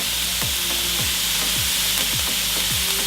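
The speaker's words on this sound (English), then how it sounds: "while the onions and the garlic is sauteing" Onions and garlic sizzle steadily in a pot, a constant hissing fry with several short spoon strokes stirring through at a fairly regular pace, close and alone.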